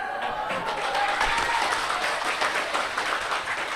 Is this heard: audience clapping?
yes